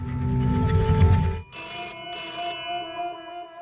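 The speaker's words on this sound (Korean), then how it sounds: "정적을 깨는 전화벨 소리가 울렸죠." An old-style telephone bell rings in two bright bursts with a short gap, clear and close, after a low rumbling hum fades out, in a quiet night scene in a 1950s-style rural switchboard setting.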